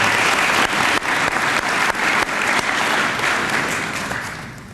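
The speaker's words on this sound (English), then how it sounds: "So if you give them a round of applause." Audience at a high school fine arts awards ceremony applauding, a full, dense roar of many hands clapping close and loud, gradually tapering off near the end.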